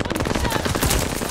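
Rapid automatic gunfire in the video game Warzone, a dense loud burst of shots packed tightly together for just over a second.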